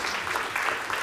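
Applause from a lecture audience, a short steady wash of clapping from a crowd that carries on evenly for about a second.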